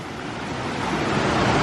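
Fast river rapids on the Appalachian Trail near a bridge rush in a steady, broad, close roar that swells slightly, with no voices.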